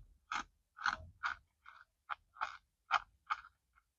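Close-up chewing of churro fries coated in cinnamon sugar and dipped in cold chocolate sauce, about nine soft, evenly spaced wet bites with quiet pauses between them, no talking.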